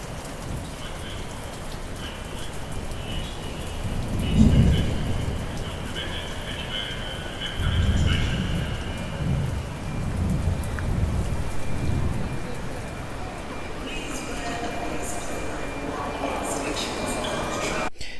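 Steady rain falls throughout, with low rumbles of thunder rolling in twice, the second rumble long and drawn out.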